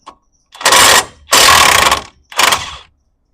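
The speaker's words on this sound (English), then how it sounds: "18mm. Come out with that one a little bit. And we'll go to the bottom, loosen it up." A ratchet wrench loosening an 18mm bolt on a 2005 Ford F150's suspension, giving three loud, close bursts of rapid clicking separated by short pauses.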